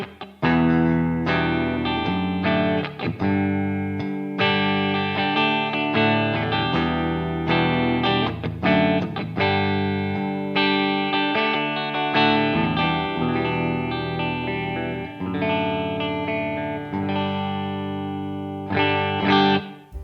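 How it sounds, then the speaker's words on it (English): Electric guitar played through an Amped ML800 amp simulator, strummed chords and riffs with a driven, effects-laden tone, loud and continuous throughout with no talking. "So let's have a listen to what this sounds like."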